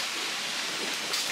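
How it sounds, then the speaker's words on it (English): Heavy rain with big raindrops, almost hail, pouring down hard in a storm, a dense, even hiss of drumming drops that stays loud and steady throughout with no voices. "look how big these raindrops are, by the way. They're coming down real hard."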